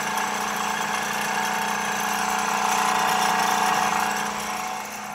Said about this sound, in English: I'm milling wood right now